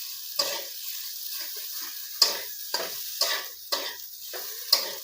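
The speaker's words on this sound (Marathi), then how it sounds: "मी सगळं असं मिक्स करून घ्यायचं" Spiced potato filling for kachori mixed in a pan, giving repeated close scraping and stirring strokes with a faint sizzle under them, roughly every half second, with no voices.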